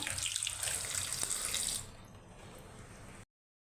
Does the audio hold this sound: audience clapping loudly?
no